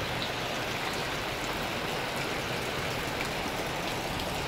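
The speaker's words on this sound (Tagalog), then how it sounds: "Grabe ang lakas ng ulan po, mga kababayan." Heavy rainfall keeps up a continuous rushing patter, an even wash of noise with faint droplet ticks, and no one speaks.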